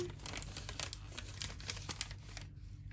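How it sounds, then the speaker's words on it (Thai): Plastic packaging of a LOL Surprise OMG Remix doll being torn and crinkled open, a steady run of close, dense crackling and ripping for nearly three seconds before it quiets. "ค่อยๆฉีกดีกว่า"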